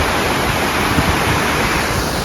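Hatch Creek in Lassen Volcanic National Park rushes loudly and steadily, a dense, unbroken wash of flowing water close by with no voices.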